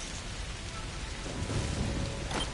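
Steady rain hiss in the video game TERA, a dense, even wash of falling drops heard alone with a faint low rumble building toward the end.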